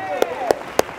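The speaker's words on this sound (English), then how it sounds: "I'll clap for myself." A preacher claps for himself during a sermon, three single hand claps about a third of a second apart, distinct and close.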